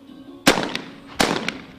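Two sharp, loud shotgun blasts from a women's team skeet medal match at an ISSF World Cup in Cyprus, spaced under a second apart, each followed by a quick echo.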